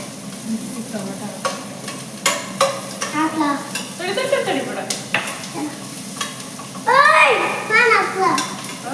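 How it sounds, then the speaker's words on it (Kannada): Food, with tomato, sizzles and is stirred in a pan while festival dishes are cooked at home. The frying stays low under frequent chatter from a child and adults. "ಅದಿನ್ನು ಫ್ರೈ ಆಗಬೇಕು."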